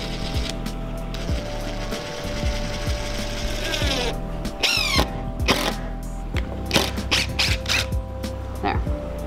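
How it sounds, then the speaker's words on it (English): A power drill drives a screw to start a hole, a continuous whirring mechanical grind with ratcheting clicks and bursts of higher whine, close and busy throughout. "I have to use this drill and just start a hole with this screw"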